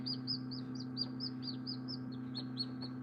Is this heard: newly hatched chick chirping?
yes